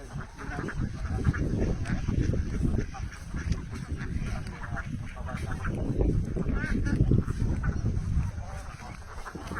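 Many ducks quack and chatter together at close range at a duck-rearing site, a dense, steady clamor with no pauses.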